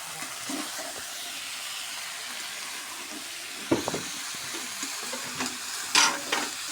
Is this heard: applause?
no